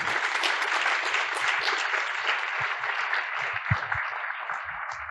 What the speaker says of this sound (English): Can we just get another round of applause for that film?